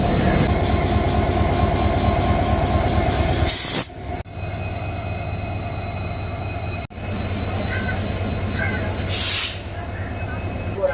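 A train hauled by a WDP-4D diesel locomotive rumbles along steadily at close range, with constant wheel and rail noise, brief bursts of wind or hiss, and a short dip partway through.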